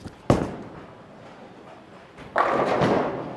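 Storm Absolute Power bowling ball striking pins in a bowling alley: a sharp thud early on, then a louder, sustained crash of scattering pins.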